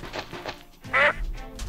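A single loud duck quack from a duck in the video game Minecraft, short and close, set against quiet game ambience.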